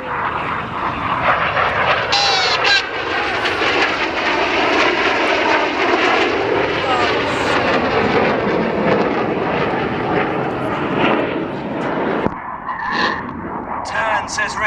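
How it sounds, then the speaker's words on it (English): Red Arrows jets pass at full power during an air display, a loud continuous roar that holds steady and then drops away sharply near the end as the aircraft turn off. "they keep full power on the jets with white smoke, now turning away from us, pulling 6G"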